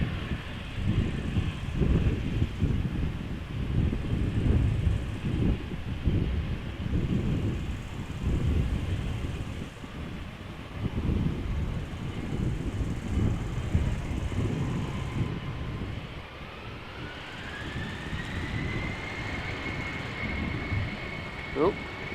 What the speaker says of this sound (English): So was this 747 that is now coming this way, was that even a planned departure?